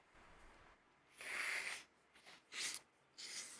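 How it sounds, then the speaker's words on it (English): A man sniffing at his elbow, several short, soft breathy sniffs in irregular bursts, close and quiet with no talking. "He's sniffing his elbow."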